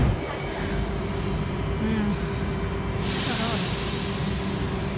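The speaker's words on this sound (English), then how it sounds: "Heat set arriving here." A local South Coast Line train pulls into a station, its steady rumble and hiss of brakes or air filling the scene, with a brief squeal and a louder surge near the end while people chat nearby.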